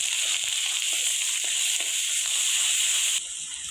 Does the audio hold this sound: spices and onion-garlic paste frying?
yes